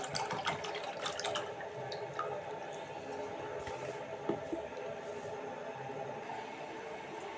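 A litre of milk pours into a pot in a home kitchen, a soft continuous liquid trickle and splash, faint and fairly close, with some light clinks early on.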